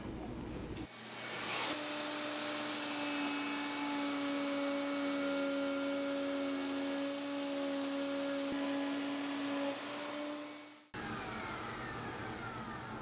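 A router bit in a full-size router table cuts along the edge of a board with a loud, steady high-pitched whine for about ten seconds, then drops off abruptly to quieter room noise.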